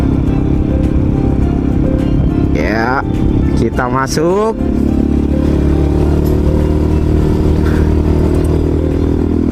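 Motorcycle riding along the dedicated motorcycle lane at the side of a Malaysian toll road, a steady engine drone and wind rumble throughout with a brief rise in revs, while a rider talks over it.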